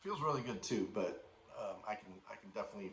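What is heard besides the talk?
No everyday noise stands out behind the speech.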